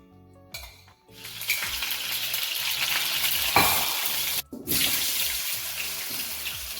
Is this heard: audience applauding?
no